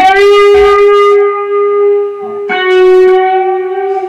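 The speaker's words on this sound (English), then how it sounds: "This bend is actually a half bend. It's not a full bend." Distorted electric guitar notes sustaining, with a slow half-step string bend raising the pitch slightly, then another note held, loud and alone, from the first solo of a song.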